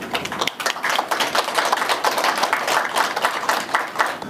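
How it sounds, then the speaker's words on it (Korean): Audience at a Washington forum on the comfort women issue clapping to welcome a speaker, a close, loud, uneven patter of hands with distinct individual claps rising and falling over several seconds. "큰 박수로 좀 환영해 주시기 바랍니다"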